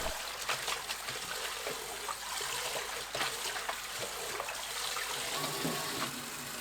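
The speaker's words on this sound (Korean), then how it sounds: "총 1시간 절인 열무는 물에 2번 헹굽니다." Salted young radish (yeolmu) is rinsed in a basin of water, a steady close splashing and sloshing with small trickles and knocks throughout, heard without talk.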